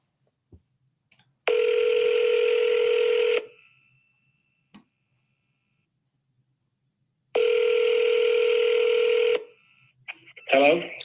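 A phone number being dialed, heard as two long steady touch-tone beeps of about two seconds each separated by silence, loud and close, with brief clicks and a short voice fragment at the end.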